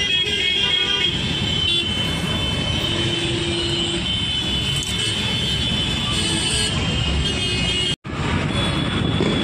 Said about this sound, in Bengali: আজকে হোলির দিনে কত জ্যাম দেখো।